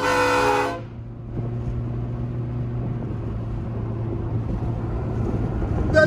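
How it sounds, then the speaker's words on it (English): Loud train horn blast heard from a vehicle driving Highway 38, a strong harmonic chord for under a second that cuts off abruptly, followed by steady road and engine rumble. "Train horn action is coming."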